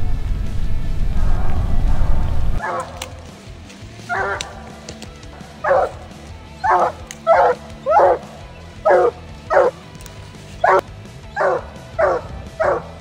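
Hunting hounds bark rhythmically at a den tree outdoors, a steady series of loud, evenly spaced bawling barks after a rough noisy start.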